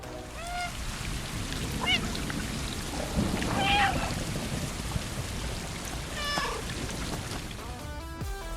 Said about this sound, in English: the player controls Murtaugh and immediately learns the best action of the game, meowing.